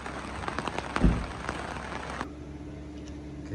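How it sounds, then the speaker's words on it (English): Rain patters steadily on a surface at a motocross enduro race camp in France, with a dense crackling hiss and one louder thud, then softens to a quieter, even patter. "Well, we weren't expecting that. For the rain."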